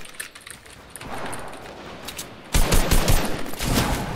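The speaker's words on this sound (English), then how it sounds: "Why does my AR sound different in every situation?" AR rifle fire in a video game comes as rapid, crackling automatic bursts, sparse at first and then a louder, denser volley in the second half.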